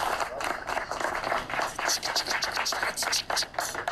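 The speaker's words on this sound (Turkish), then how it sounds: "Hadi bu gençlere bir alkış tutun bakayım." A crowd at a Turkish zeybek dance show applauds young dancers with dense, continuous clapping, moderately loud, while voices talk over it.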